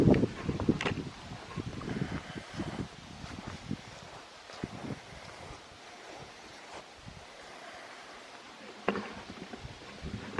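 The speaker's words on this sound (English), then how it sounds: "Now you'll have to forgive the wind a little bit" Gusty wind buffets a microphone outdoors, with rumbling low gusts rising and falling steadily and no one talking, during an outdoor wash of an old 1978 Dodge D150 pickup.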